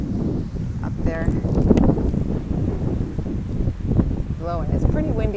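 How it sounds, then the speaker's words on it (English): Wind blowing steadily across a beach by a boardwalk and protected dunes with sea oats, a constant low rushing buffeting the microphone, with faint voices and bird calls now and then. "it's a pretty windy day today"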